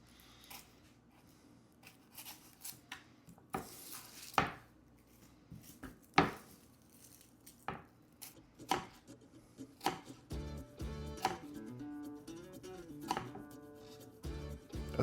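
A knife trims the tips off onions on a cutting board, irregular crisp chops and taps close up, some isolated and some in quick runs, with no voices.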